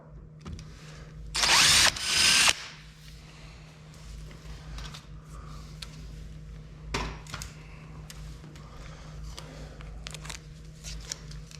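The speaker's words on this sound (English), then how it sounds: "I am drilling perpendicular to this plane" A power drill whirs in two short loud bursts, roughly a second each with a brief dip between, drilling a car windshield frame, followed by quiet handling and small knocks.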